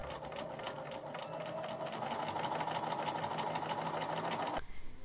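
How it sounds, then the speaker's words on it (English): A sewing machine stitches elastic into the cuff of a 1930s-style Halloween costume, running in a fast, steady mechanical rattle at close range for several seconds before stopping abruptly near the end. "I then stitched the ends of the elastic together before sewing it in place in the cuff to stop it twisting."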